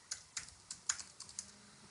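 Seven or so crisp computer keyboard keystrokes tap at a quick, slightly uneven pace, close and fairly quiet, with no talking.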